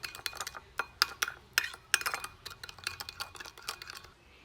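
Utensil scraping and clinking against a dish while stirring a chicken rice marinade with sesame oil, a steady run of close, sharp taps and scrapes with no talking.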